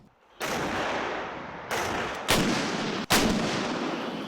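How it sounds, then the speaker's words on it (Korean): 155mm towed artillery guns fire in a live training drill on a flat range in Cheorwon, Gangwon Province, heavy broadband blasts and rumbling reverberation, with three or four sharp onsets in quick succession close by. "155mm 견인포 사격 훈련을 처음으로 실시했습니다"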